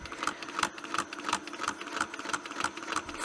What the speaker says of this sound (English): This machine stitches straight forwards and backwards